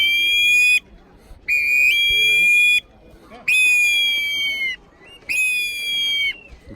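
A traditional Mexican instrument at Teotihuacán imitates an eagle's call in four long, piercing whistled cries, each a sustained tone that steps in pitch, separated by short pauses.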